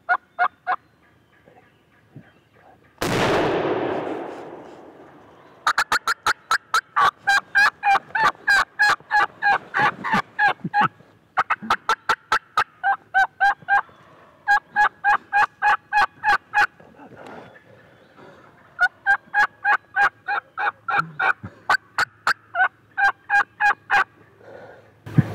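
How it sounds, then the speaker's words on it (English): Wild turkeys on Ohio public land gobble in close, loud, rapid rattling bursts, repeated in series over a quiet woodland, after a single sharp blast early on. "the other gobblers up the ridge gobbled"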